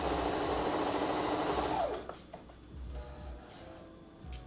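Sewing machine back stitching on a fabric face mask, a fast steady whir of stitches close by for about two seconds, then stopping, followed by faint handling clicks and light rustling.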